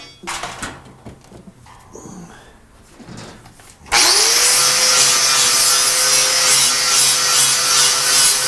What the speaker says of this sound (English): let me grab a little sander here